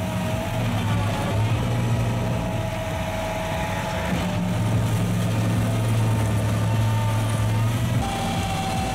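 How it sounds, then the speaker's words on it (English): A 25 HP Loxam tree stump grinder runs continuously with a loud, steady engine drone and a deep humming tone that rises and falls slightly, heard close with no talking. "A 25 HP tree stump grinder Loxam can handle tree stumps up to 63 centimeters high"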